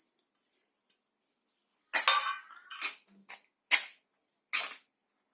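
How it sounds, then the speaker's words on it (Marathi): Spoon scraping and clinking against a pan while milk powder and cardamom powder are mixed into besan barfi, several short separate bursts of stirring with quiet gaps between them, close and moderately loud. "आता ते चांगलं मिक्स करून घेऊया आणि त्यात वेलची पावडर पण टाकूया आपण."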